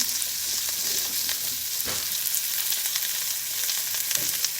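Bacon-wrapped salmon from the Columbia River fries in a pan, giving a constant dense sizzle and crackle, close and steady throughout.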